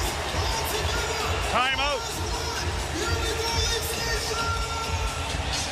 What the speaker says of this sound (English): This crowd is just electric